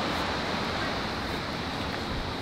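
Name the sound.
ocean waves surfing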